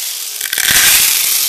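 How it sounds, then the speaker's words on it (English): Airsoft BBs rattle inside a speedloader bottle filled to the top and shaken, a dense continuous hiss of clicking pellets that swells after a quiet start and holds loud to the end. "even when you have it filled all the way up to the top and you shake it, you make a lot of noise"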